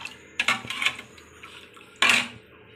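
A utensil whisks water with salt and sugar in a metal bowl, giving a few bright clinking scrapes against the sides in two short bursts, close and fairly loud, with no talk.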